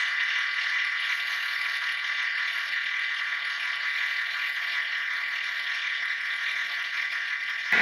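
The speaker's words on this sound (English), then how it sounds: "that is even after re-greasing that idler pulley, and it still sounds like that" A constant high-pitched metallic whirring rattle from a worn engine idler pulley bearing, still noisy after re-greasing, steady and close, with no voices.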